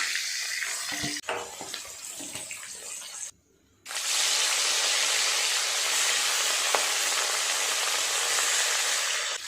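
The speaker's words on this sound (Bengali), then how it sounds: "যে মাছগুলো আছে ওই মাছগুলো একইভাবে ভেজে নেব।" Fish frying in hot oil in a pan, a loud, close, continuous sizzle that briefly drops out then returns stronger and steady.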